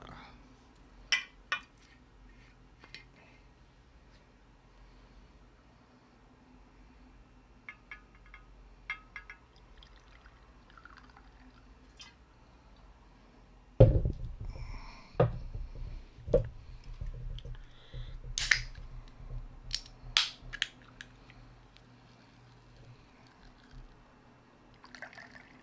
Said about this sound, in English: I'm going to literally pour myself 2 shots now.